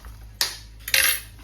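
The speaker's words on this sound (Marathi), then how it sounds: "आता हे ह्याला फोकच्या साहाय्याने सगळं मिक्स करून घेऊया" A fork stirs crispy barbecue-style corn kernels tossed with squeezed lemon juice, giving two short clinking scrapes against the dish in an otherwise quiet moment.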